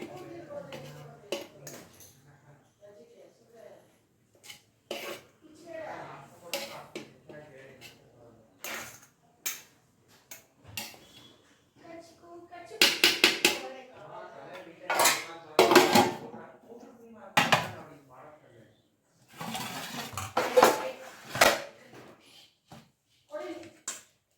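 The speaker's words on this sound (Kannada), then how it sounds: "ಈಗ ಒಂದು ಪ್ಲೇಟಿಗೆ ಹಾಕ್ತಿದ್ದೀನಿ" Vegetable biryani is spooned from the pot onto a plate, giving scattered metallic clinks and scrapes of a spoon against the pot and plate. The strikes come in irregular bursts, some sharp and loud, with quieter handling in between.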